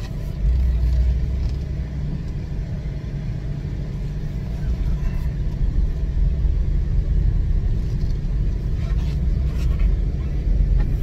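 A 2003 Mitsubishi Montero rumbles steadily while driving, its low engine and road drone loud and continuous throughout, with no voices heard.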